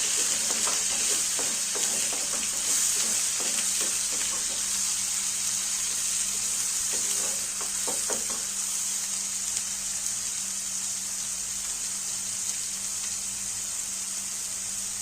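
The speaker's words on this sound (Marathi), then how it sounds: "कांद्याची पेस्ट चांगली तेल सुटेपर्यंत भाजून घ्यायची." Onion paste for a matar paneer frying in oil, with a continuous soft sizzle and scattered clicks and scrapes of stirring, heard alone without voices.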